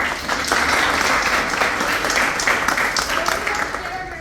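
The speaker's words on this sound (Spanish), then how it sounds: "un aplauso a Pia Daniela" Applause from a classroom or lecture audience for a student presenter, a loud, steady wash of clapping from a small group, with voices mixed in under it.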